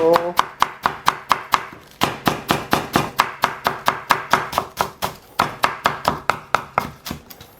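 Rapid, steady knife chops through cabbage on a cutting board, loud and close, with a brief pause before the rhythm resumes.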